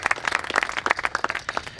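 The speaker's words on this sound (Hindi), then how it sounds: "एक बार जोरदार तालियां इनके लिए बजा दें" A small audience at a theatre festival talk and discussion applauds the guests with quieter, fairly sparse clapping in which individual claps stand out, kept up briefly at a moderate distance.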